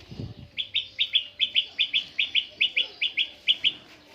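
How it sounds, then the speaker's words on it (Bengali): Doves perched in a mango tree where they have built a nest give a steady run of about fourteen evenly spaced, clear calls, close and moderately loud, with a brief low thump at the start. "ওদের আম গাছে ঘুঘু পাখি বাসা বানাইছে।"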